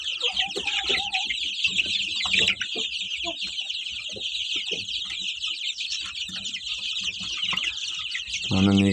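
Chickens and chicks cluck and peep steadily at close range as they snatch at feed of cottage cheese and semolina porridge, with scattered soft pecks, a brief murmur of speech and a louder call near the end.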